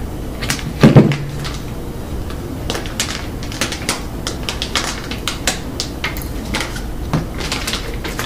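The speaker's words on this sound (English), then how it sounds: "I'm going to open one up. Try to open it up without damaging the package." Packaging being opened around an EMA tactical rifle magazine, a loud crinkling burst at the start followed by a steady run of small crackles, rustles and sharp clicks.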